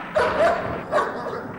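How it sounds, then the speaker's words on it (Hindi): Dogs bark in two short bursts at a moderate distance, over a low background murmur during a birthday celebration. "अरे कुत्ते क्यों भौंक रहे हैं?"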